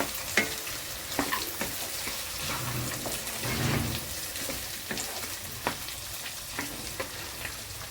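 Cashews tossed into a pan of raw prawns frying in oil, a soft continuous sizzle with scattered stirring clicks and light taps, close and fairly quiet, with no voices.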